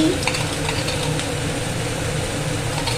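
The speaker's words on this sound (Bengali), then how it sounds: "এরপর ভালো করে মশলাটা কষাবো যাতে কাঁচা মশলার গন্ধ না ওঠে।" A spice paste with Kashmiri chilli powder and a little sugar is stir-fried in a pan, making a loud, continuous sizzling rush with a low rumble underneath and no speech over it.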